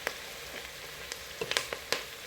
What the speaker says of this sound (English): Now I'm trying to mix my onions to get the aromas out